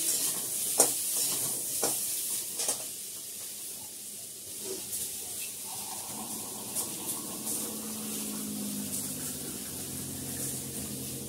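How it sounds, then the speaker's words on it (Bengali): Home-grown tomatoes cooked with turmeric and salt in a pan, stirred and then doused with water, giving a steady sizzling hiss with soft scraping stirs and a spitting burst. "নাড়াচাড়া করে জল দিয়ে দেবো।"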